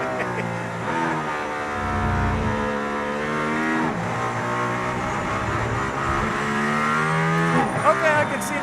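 Mercedes-AMG ONE hypercar driving in Barcelona, its engine note climbing and dropping through gear changes, loud and close from inside the cabin, with voices talking over it.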